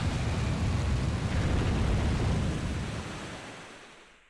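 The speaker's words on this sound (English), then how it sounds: "And let's get this water flowing." Water rushing and starting to flow in the video game Zelda: Twilight Princess, a loud broadband roar that holds steady and then fades away, with no talking.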